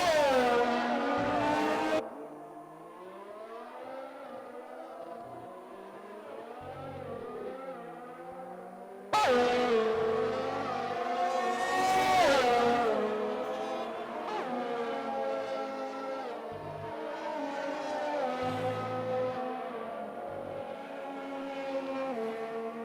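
Racing car engines on a qualifying lap in an F1 sim racing game at Bahrain, on fresh soft tyres, loud high revving whine rising and falling with gear shifts, a sharp cut near the start and a steady scream throughout.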